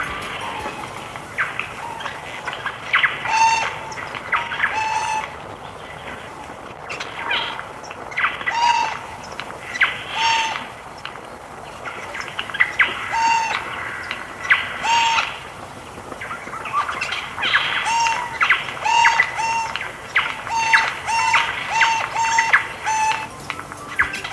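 A jay, a resident bird known for planting oaks, sings a series of repeated short, bright calls in irregular bursts, moderately close against a quiet background.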